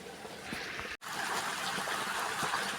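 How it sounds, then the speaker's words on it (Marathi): Water running into an irrigation channel in an okra field, a steady soft rushing trickle heard outdoors, broken by one brief dropout. "पाणी चालू झालं आहे बघा इथं आणि पाणी चाललं आता"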